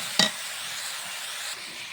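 Meat frying in oil in a pan for a festive Eid dish, a steady broadband sizzle that holds evenly throughout, with a brief louder clatter near the start as the pieces are stirred.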